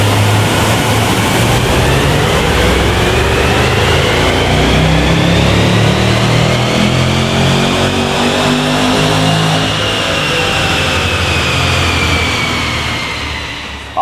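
A Range Rover Velar with an upper pulley upgrade and ECU remap runs hard on a dyno, its loud, steady engine roar climbing in pitch as it pulls through the revs, then easing off near the end with no talk over it.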